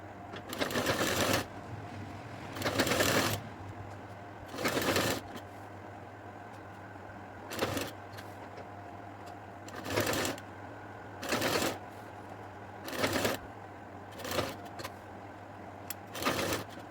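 A sewing machine stitches a V-neck collar in short, quiet bursts, about a dozen runs of rapid needle chatter separated by brief pauses, heard alone and close.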